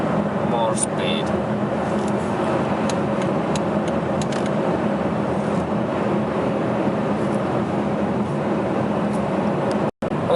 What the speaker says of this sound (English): I do acceleration test in motorway drive, and motor takes nicely more speed.